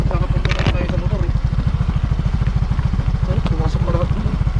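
Motorcycle engine idling and chugging with a steady low pulsing beat on a muddy off-road trail in Montalban, Rodriguez, Rizal, loud and close, with a person talking over it.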